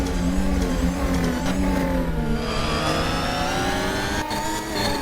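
Formula 1 car engine in the racing game Formula Apex, revving hard and climbing through gears in a loud, continuous howl with rising harmonic pitch, a brief dip near the end, no talking.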